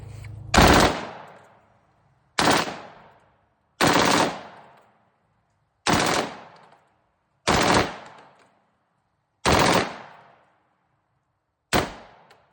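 An AR-15 rifle fed from a drum magazine fires seven loud, sharp single shots spaced about one to two seconds apart, each ending in a short decaying echo, with no talking over them.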